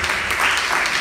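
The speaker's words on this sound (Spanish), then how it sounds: "Los que están vivos le dan un aplauso fuerte a Cristo" Brief burst of congregational applause at a church service, dense and steady throughout, with no voices on top.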